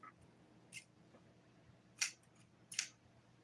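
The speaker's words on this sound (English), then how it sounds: "Oh, my scissors are so dull." Dull scissors snip fine yarn in a quiet room, giving a few sharp, isolated cuts spaced apart, with faint handling sounds between them.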